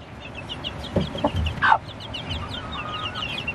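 A mother hen clucks softly among her roughly four-week-old chicks, with a few low clucks, a brief louder squawk and thin chick peeps scattered throughout over a quiet outdoor background.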